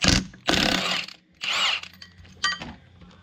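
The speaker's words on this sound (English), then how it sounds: "Then you grab your 1/2-inch drive impact gun and a 22mm socket. Take that pig off." A 1/2-inch drive impact gun with a 22mm socket takes a nut off a Grizzly 700 ATV in a garage, firing three loud, close rattling bursts separated by short pauses, then a fainter tail of clicks.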